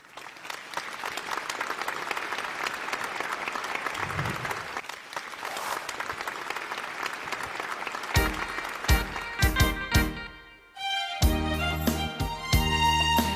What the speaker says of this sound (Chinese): 掌声欢迎他